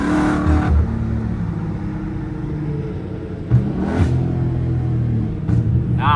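A straight-piped Dodge Scat Pack downshifting, its exhaust rumbling loudly with sharp revving blips and crackles that rise and fall, close and with no one talking.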